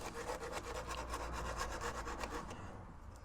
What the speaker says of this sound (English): got my sandpaper. All I want to do is just take off the paint